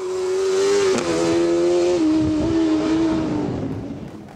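A single-seat ST01 prototype race car on a hill climb at Col Saint Pierre, its engine roaring loud and steady, briefly dipping as the pitch shifts between gears and then fading slightly as it moves off.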